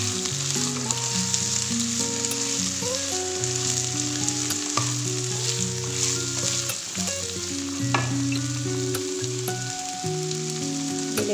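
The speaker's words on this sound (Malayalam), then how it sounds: "ഇതിലേക്ക് ക്യാരറ്റ്, ഉരുളൻകിഴങ്ങ്, ബീൻസ് ചേർത്ത് ഒരു മിനിറ്റ് ഒന്ന് വഴറ്റുക." Chopped carrots, potatoes and beans sautéing in a hot pan for a vegetable stew, a steady close sizzle with scraping stirs and a clatter of utensil strokes, with no talking.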